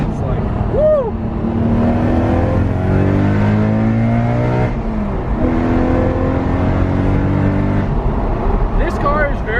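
A Nissan Skyline R34 GT-R V-Spec engine revs hard and loud, pitch climbing and falling in long sweeps, then rising again, close by.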